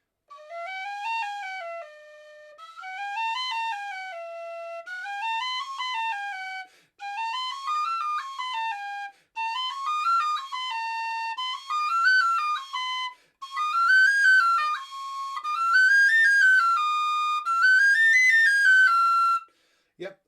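Tin whistle playing a quick finger exercise: repeated rising-and-falling note runs in short phrases, climbing higher with each pass, clear and bright, solo with no talking.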